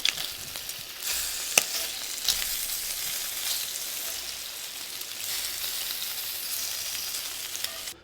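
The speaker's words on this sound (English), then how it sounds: "So while my burgers are finishing on the grill" Burgers sizzle on a grill under a closed lid with a constant close crackling hiss and a few sharp clicks and pops, with no voices.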